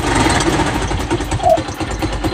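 A Motorstar CES 110 motorcycle engine, left sitting for a year, runs close by with a steady, loud, buzzing putter and no talk.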